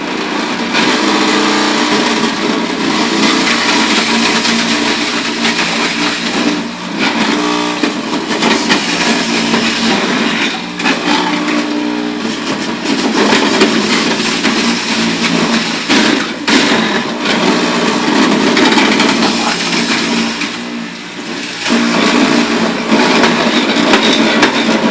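A juicer grinds apples, carrots and cabbage in a continuous loud, dense whir that runs nearly unbroken, with slight surges and dips as produce is pushed through; no one speaks.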